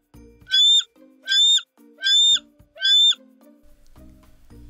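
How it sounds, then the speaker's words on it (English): An eagle gives four loud, shrill, whistling screeches at an even spaced rhythm, each lasting about half a second, with quiet gaps and a low rumble between them. "The eagle is a big bird that can fly very high in the sky."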